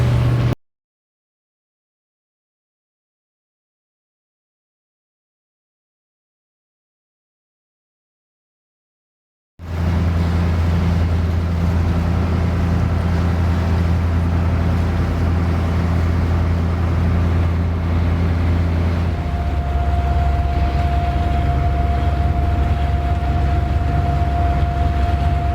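Low steady drone of a sailboat's engine motoring toward Morehead City on rough water, continuous and fairly loud with wind noise, starting after a long stretch of silence.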